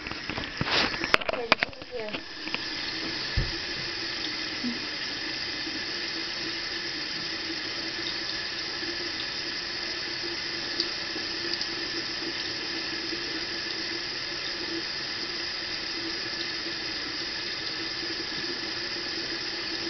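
Tap water runs steadily from a faucet to wet a makeup sponge at a sink, a continuous close hiss lasting throughout after a few brief handling clicks at the start.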